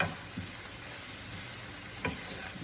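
A stir-fry of wild garlic flowers and leaves with choy sum in oyster sauce crackles in a pan, a low steady sizzle marked by a few sharp clacks of a utensil against the pan, with no talk.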